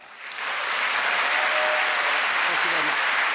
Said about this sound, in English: I want you to give a very strong applause to the directors of the moot